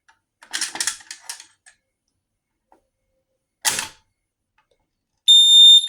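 A few sharp mechanical clicks and snaps as an ADT SafeWatch Pro 3000 fire alarm pull station handle is lifted and pulled, a pause, another clack, then a loud electronic alarm tone suddenly starts ringing.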